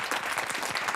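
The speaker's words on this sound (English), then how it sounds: "A round of applause for Keir now." A studio audience on a television quiz show breaks into brief, loud applause, a thick burst of clapping with no voices over it.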